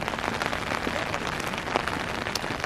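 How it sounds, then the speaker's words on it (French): Steady rain patters densely on an umbrella overhead, a close, crackling hiss with scattered louder drops throughout. "le bruit de la pluie sur le parapluie"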